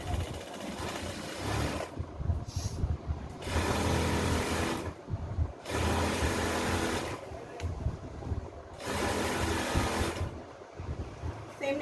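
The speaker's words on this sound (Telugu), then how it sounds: "అలాగా నేను స్టిచ్ చేస్తున్నాను అనమాట." A sewing machine stitching a straight-fit kurti in bursts of steady mechanical whirring, about four runs of a second or two each, separated by short pauses.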